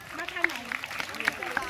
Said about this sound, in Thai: ปรบมือให้หน่อย